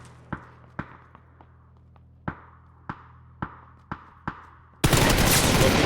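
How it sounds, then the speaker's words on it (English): Gunfire in the battle-royale game PUBG during an esports match: a string of sharp single shots spaced irregularly, loud and close, ending in a burst of dense noise, with no talk. "Good headshot onto Noki."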